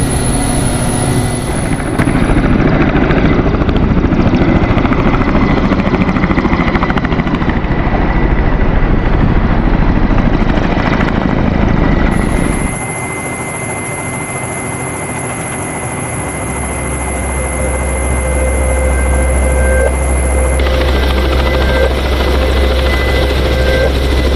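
A firefighting and rescue helicopter runs up for takeoff, its loud, close turbine whine and rotor roar filling the air, then shifting in pitch and intensity partway through as the engine settles, with no speech.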